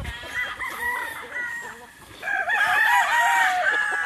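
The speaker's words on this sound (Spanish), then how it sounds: "Son algunos gallos de 3 años, dice que se quedan aquí." Three-year-old Kelso gamecocks crow in overlapping calls at a farm in Oklahoma, loud and close, with one long crow followed by others joining in.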